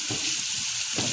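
Chicken pieces stirred in a hot frying pan, a steady loud sizzle broken by a few rhythmic scraping pushes of the spoon, close up with no talking.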